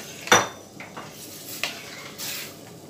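A utensil stirs an okra stew base with tomato juice in a cooking pot, giving a sharp clank followed by several softer scrapes and clinks against the metal, with a faint sizzle underneath and no talking.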